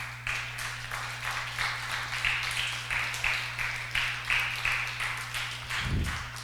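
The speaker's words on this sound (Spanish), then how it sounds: "¿Cuántos le podrían dar un aplauso al Señor?" A church congregation applauds, the crowd's clapping sustained and fairly even for several seconds, with a steady low hum beneath and a brief low thump near the end.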